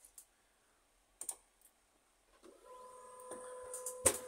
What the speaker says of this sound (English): When you printing some document, you can hear that printer try to pick up another,